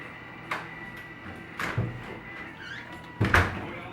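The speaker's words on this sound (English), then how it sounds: "Open the door again." A household door is opened with three distinct thumps and rattles of the latch and frame, spaced about a second apart, close and fairly loud in a quiet room.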